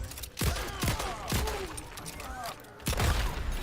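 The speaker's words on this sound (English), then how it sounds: "amplified gunshots yet again" Amplified gunshots from the Mortal Kombat fighting game at a Kombat Africa tournament, several sharp booming bursts spaced across the clip under a busy game mix with continuous background noise.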